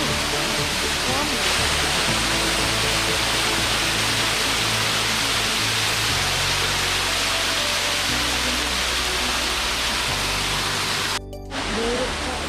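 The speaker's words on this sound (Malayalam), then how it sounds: "ഇതുണ്ടോ, വലിയൊരു പാറയുടെ സൈഡിൽ കൂടെ വെള്ളം ഒഴുകി വരുന്നത്." A roadside waterfall pours down beside a large rock, a loud continuous broadband rush that stays steady throughout with no voices over it.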